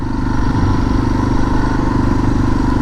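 A dual-sport, street-legal motorcycle engine runs with a loud, steady, close rumble and slight clatter that continues unbroken for a few seconds.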